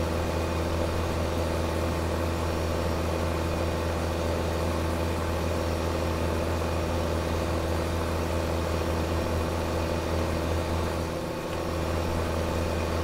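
A tractor engine droning steadily in the farming game Farming Simulator 2015, a constant low mechanical hum with an unchanging tone throughout, with no talking.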